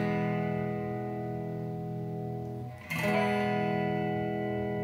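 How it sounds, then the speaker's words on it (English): A crunchy, overdriven electric guitar chord through a Fender Mustang GTX50 amplifier on its crunch setting rings out and fades, then is struck again and sustains, moderately loud with no talking. "this is what the crunch setting sounds like"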